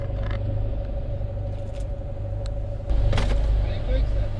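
Cars queuing to enter a town car park, engines idling in a steady low rumble close by, swelling louder toward the end as a vehicle moves nearby, with people talking over it.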